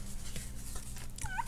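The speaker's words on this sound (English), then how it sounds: "you might hear the dogs in the background." Faint dog whimpering and a short yip in the background, soft and distant over a steady low hum.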